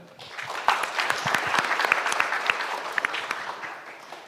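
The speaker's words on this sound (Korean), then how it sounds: "큰 박수로 임해 주시면 감사하겠습니다" Conference audience at a Seoul digital bio city event breaking into sustained applause, a dense patter of many hands with sharp individual claps standing out, steady throughout with faint crowd murmur.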